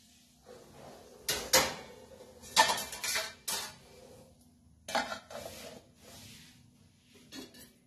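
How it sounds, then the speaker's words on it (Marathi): Steel lid set down onto a bowl of soaked fasting-idli batter in a home kitchen, giving a few sharp metallic clanks and scrapes spaced over several seconds, close and moderately loud with quiet pauses between. "आपण काय करू, याच्यावर झाकण ठेवू"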